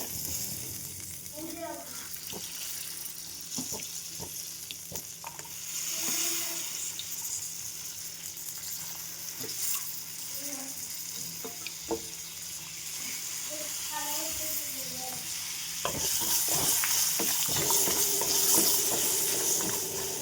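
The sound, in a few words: shallots frying in a pan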